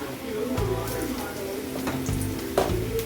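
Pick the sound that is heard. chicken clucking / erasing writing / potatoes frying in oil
potatoes frying in oil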